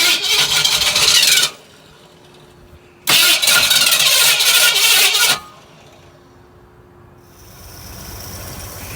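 A 1982 Ford Bronco's engine cranks with a loud starter whine, falls quiet, cranks again for about two seconds, then settles into a low, steady idle with a faint whine rising near the end.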